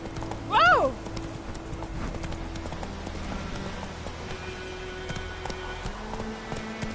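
Roach the horse in the video game Witcher 3, with rhythmic hoofbeats, a brief loud whinny near the start and a steady background music bed.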